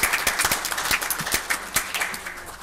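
Applause at a city council meeting, a short burst of scattered hand clapping from a small crowd, fairly close and alone.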